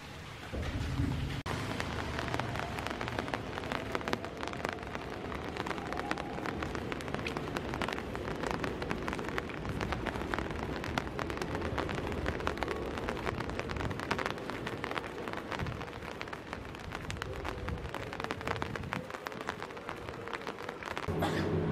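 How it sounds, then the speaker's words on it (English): Rain falls steadily outside a hotel room in Japan, a dense, even hiss with scattered drop patter, fairly quiet and constant throughout. "as you see, it's raining."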